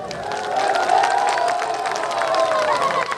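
A crowd at an outdoor political rally in Chhuta Gabol Goth, Pakistan, claps and cheers in a dense, sustained roar with a voice over the public address system audible within it.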